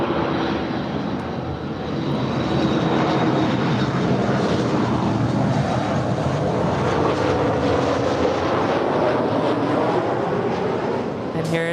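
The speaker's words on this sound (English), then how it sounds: "Lufthansa A330, gonna come." A Lufthansa Airbus A330 jet arrives at Los Angeles International Airport, its engines building into a loud, sustained roar that holds steady, with a thin whine on top and occasional voices nearby.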